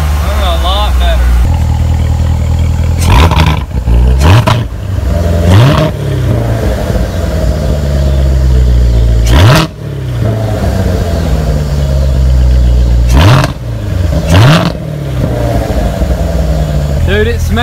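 A supercharged 2017 Corvette Z06 being rebuilt after a wreck revs hard several times over a rumbling idle, each sharp rise and fall loud and close, with people talking nearby.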